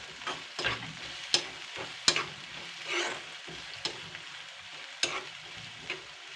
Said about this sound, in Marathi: त्याच्यामध्ये टमाटर टाकूया, बारीक चिरलेला आहे टमाटर